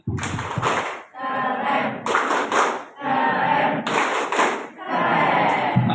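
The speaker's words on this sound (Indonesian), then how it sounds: "Oke, tepuk tangan sekali lagi." A group claps in rhythmic bursts, four loud, close rounds of quick hand claps separated by brief pauses.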